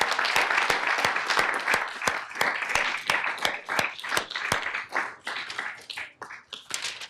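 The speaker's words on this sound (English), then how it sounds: "give her a big round of applause." Audience at a city council meeting breaks into applause, a dense burst of many hands clapping close by that thins out toward the end.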